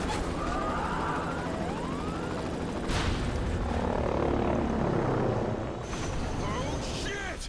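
A helicopter in the video game Prototype 2 drones with steady rotor noise while sirens wail and sweep in the background, along with other in-game effects.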